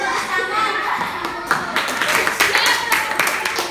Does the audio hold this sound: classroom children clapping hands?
yes